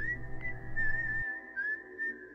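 Eerie tune whistled by a figure on a couch in a horror story, a thin wavering whistle held nearly without a break, over a low hum that cuts out halfway through.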